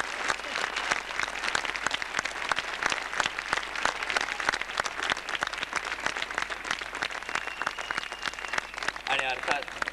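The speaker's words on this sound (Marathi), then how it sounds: "टाळ्या." Applause for the stage performers at a Marathi show fills the whole stretch, a dense crowd of clapping hands that stays loud and steady, with voices mixed in underneath.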